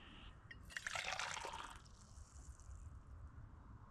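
Water trickles and dribbles from a leaking camping cooking pot in a faint, close burst of splashy liquid sound lasting about a second, then fades to quiet outdoor background.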